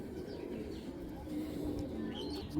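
A young Giribaz pigeon coos softly and continuously at close range, a low steady murmur with faint chirps over a constant background hum.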